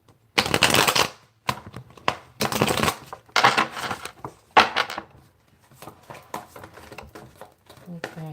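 Tarot cards being shuffled and handled in bursts of crisp riffling and slapping, several rapid flurries with brief pauses between, close and fairly loud.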